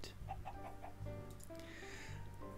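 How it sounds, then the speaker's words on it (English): A Minecraft chicken clucks in a few short, soft bursts, quiet and close against a faint low background. "Oh, chicken! Hello. Hello, chicken."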